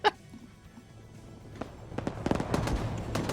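A rocket-propelled grenade fires and bursts in a military shooter game, a sharp blast followed by a cluster of cracking impacts and rattling gunfire, fairly close and loud, with no talk.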